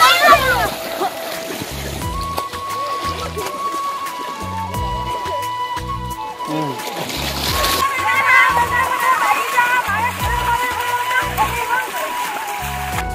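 Water splashing and sloshing as cows are washed in the Nanoi river during the Goru Bihu festival, with intermittent splashes throughout and voices talking over them.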